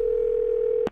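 A steady telephone dial tone hums while a call is placed in the video game Do Not Feed the Monkeys, then cuts off abruptly with a brief click near the end.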